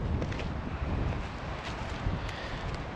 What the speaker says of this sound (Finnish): Nyt muuten tuulee.